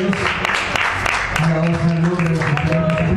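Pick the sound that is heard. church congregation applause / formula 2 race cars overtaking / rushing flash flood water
church congregation applause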